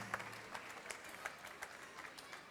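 Small audience at a bread-making class at a festival clapping after tasting focaccia, a light scattered patter of hands, faint and somewhat distant, brief.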